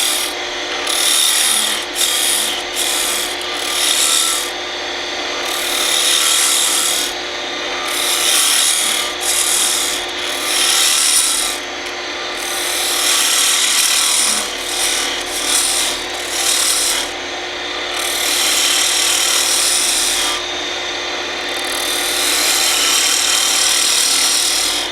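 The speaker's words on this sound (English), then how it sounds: "Now I'll use the roughing gouge to shape the main portion of the body." A roughing gouge shaves wood on a spinning lathe, a loud continuous rasping hiss broken by brief pauses as the tool lifts off and returns.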